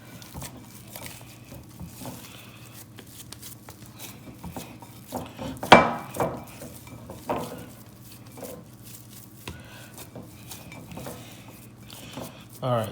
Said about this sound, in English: Keep mixing it, mixing it, mixing it.